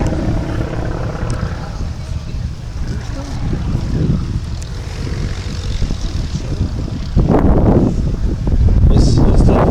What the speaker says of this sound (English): This is the Yak-11.